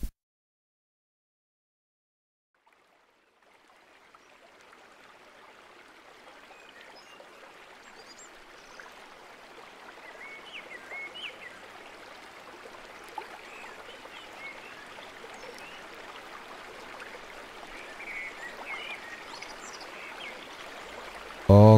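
River water flows steadily on its own, a broad trickling and babbling wash that fades in after a few seconds of silence and grows slightly louder and closer over time.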